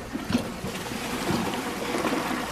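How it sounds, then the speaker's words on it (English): A Champion 4 toilet flushes away a heavy test load, giving a close, continuous watery rush and gurgle with small splashes that swells slightly toward the end. "And flush."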